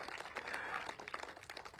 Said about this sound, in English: give Marcus and his team from Jurong East-Bukit Batok another round of applause.